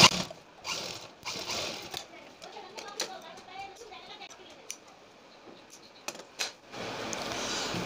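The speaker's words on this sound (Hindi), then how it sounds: "अब हमें इधर भी सिलाई लगा देना है।" A sewing machine stitches a back neck design on a kurti in short bursts of rapid needle clatter with pauses in between, fairly faint, while someone speaks.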